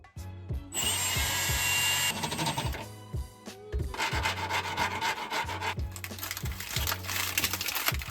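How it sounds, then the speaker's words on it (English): Power drill boring into the car body during a DIY air suspension install on a Toyota Crown Majesta: close, loud whirring bursts of grinding with short pauses and a steady motor hum between them. "So that's where I'm going to drill."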